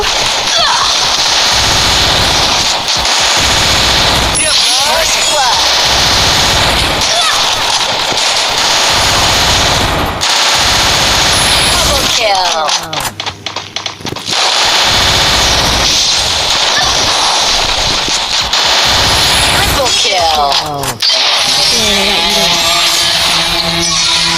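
Loud, sustained machine-gun bursts from the video game Free Fire, repeated in dense rapid volleys across the whole stretch amid game effects, with brief pauses between runs of fire.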